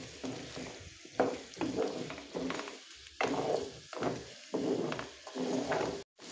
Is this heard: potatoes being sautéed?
yes